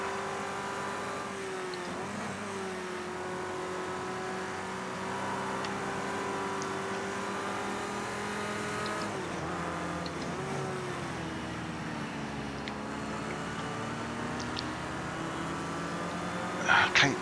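Vintage touring cars, including a Ford Escort, race at Brands Hatch, engines droning and shifting pitch continuously through the corners at moderate distance, with a commentator talking over the noise.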